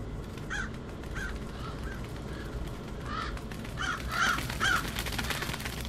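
Crows in the Die Young game caw several times over a steady rumbling background ambience, calls scattered and moderately loud, no speech.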